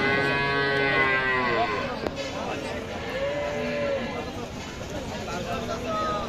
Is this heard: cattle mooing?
yes